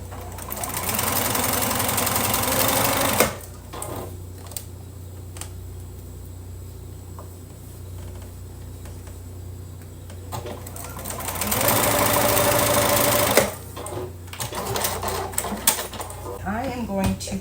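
Two bursts of a sewing machine stitching a quilt heart block seam, each a loud, close, steady mechanical hum, separated by a quieter stretch of rustling and handling.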